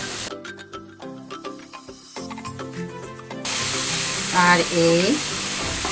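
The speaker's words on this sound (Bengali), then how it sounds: "1 চিমটি হলুদ পাউডার, দিয়ে আমি এরকমভাবে" Chicken and vegetables fry with a pinch of turmeric in a pan. A steady sizzling hiss starts about halfway through, after tonal background sounds, and runs on under a brief spoken voice.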